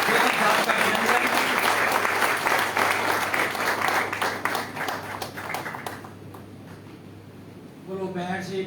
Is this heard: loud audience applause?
yes